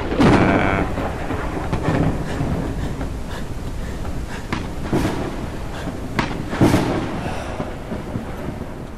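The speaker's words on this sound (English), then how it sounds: "Jeez, that storm though." Thunderstorm raging in the survival game Forever Skies, with loud continuous rain and wind roar and several deep rumbling thunder bursts swelling and fading, the strongest near the start and another crash past the midpoint.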